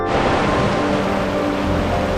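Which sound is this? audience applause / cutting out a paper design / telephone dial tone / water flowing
water flowing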